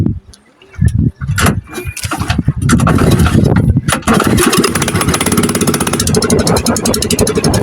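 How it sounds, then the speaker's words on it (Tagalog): A boat's engine, used while fishing with shrimp bait, starts with a few sputtering bursts and then settles into a loud, steady running drone close by. "Andar na ako mga idol ng makina mga idol."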